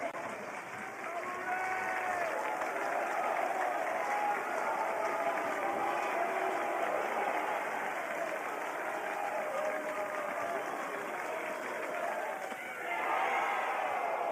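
A college baseball crowd at Wake Forest versus Duke cheers and claps in a sustained, dense roar, loud and continuous, with a commentator's voice talking over it.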